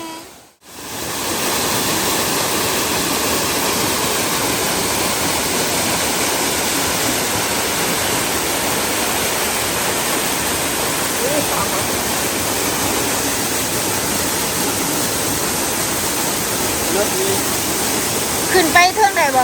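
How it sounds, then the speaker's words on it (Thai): A forest waterfall roars as a loud, steady broadband rush of falling water that fills the whole stretch, with faint voices near the end. "ฮอดน้ำตกตาลละเด้อว้าว"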